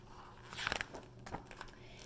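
Crunching, biting sounds from a caterpillar chewing its way out of a bottle, a few close, quick crisp bursts clustered together with a fainter one following, no voices.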